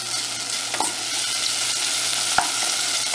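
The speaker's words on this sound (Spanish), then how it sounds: "se empiece a freír un poquito el jamón." Ham beginning to fry in a pan gives a loud, dense, continuous sizzle up close, with a couple of brief utensil taps and stirs over it and no voices.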